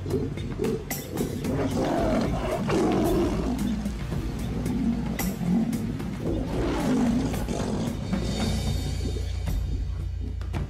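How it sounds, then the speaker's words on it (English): Lions roar and growl in the wild, close and loud, in deep rumbling repeated calls over a continuous low throb of breathing and grunts. "There are too many lions around."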